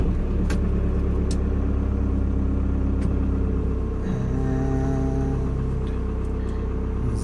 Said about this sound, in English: So I'll turn the van on